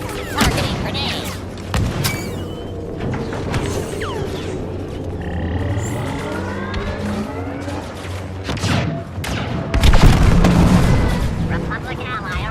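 A grenade goes off amid a Star Wars Battlefront 2 battle as an MTT advances, the blast joining dense booming gunfire and explosions, with game voices talking over the chaotic loud mix.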